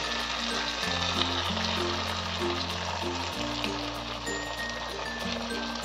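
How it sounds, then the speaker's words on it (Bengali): Okra coated in batter sizzles loudly in a pan while being stirred, a dense continuous hiss under a low steady hum, with no talking. "আমি এটাকে ভালোভাবে নেড়ে নেব।"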